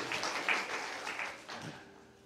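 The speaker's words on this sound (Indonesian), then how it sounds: "Berikan tepuk tangan buat Tuhan kita." Congregation in a church service gives a scattered round of clapping, moderately quiet and uneven, thinning out and tapering off near the end.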